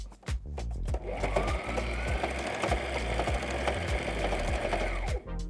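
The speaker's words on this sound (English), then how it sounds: "sew it here back and forth a few times" A sewing machine runs steadily, stitching a bias tape strap onto a fabric protest banner in a back-and-forth pass, close and loud, starting and stopping with short mechanical clicks.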